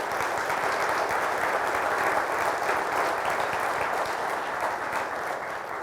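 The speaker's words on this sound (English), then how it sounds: "let's give Betty Cohn a round of applause" An audience at a downtown Greensboro gathering claps steadily, a dense, even wash of applause that holds at the same level for several seconds without cheering or speech.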